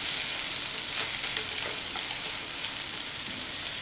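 Raw banana podimas sizzles and fries in a pan as it is tossed and stirred, a dense continuous crackle with soft scraping stir sounds throughout.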